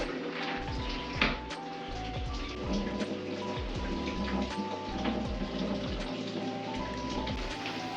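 A home bathroom shower runs steadily, spraying water that patters in a dense, continuous hiss like rain, with occasional louder splashes and knocks, and nobody speaks.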